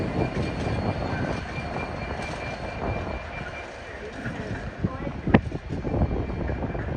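At Peterborough station on the East Coast Main Line, class 66 locomotive 66748 in Britannic Explorer livery rolls past with a steady rumble and rail noise, and a brief sharp clank near the end.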